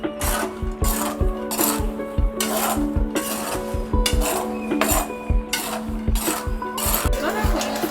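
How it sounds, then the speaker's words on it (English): Peanuts are stirred while frying in a pot, with steady rhythmic scraping and rasping against the metal under a constant background hum, each stroke repeating about once a second, close and fairly loud. "you have to stir and stir and stir"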